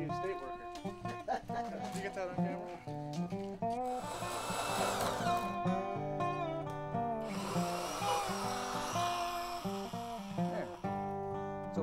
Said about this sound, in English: I'm gonna drill one hole into the log